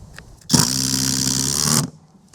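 A Flex impact driver runs at speed 3, driving a screw in one continuous loud, buzzing burst of about a second and a half before stopping abruptly.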